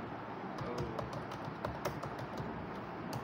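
Typing on a computer keyboard, a quick irregular run of light key clicks and taps close by, fairly quiet, with no talking.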